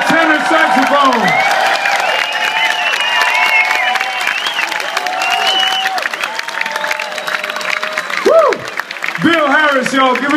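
A concert crowd at a show in Antwerp applauds and cheers for a tenor saxophonist, a loud continuous roar of clapping and whoops mixed with music and voices throughout.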